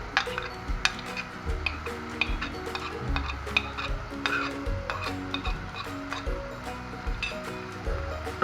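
Poppy seed and coconut paste goes into prawns frying in a pan, with a soft sizzle under repeated scraping stirs and light clinks of a utensil against the pan.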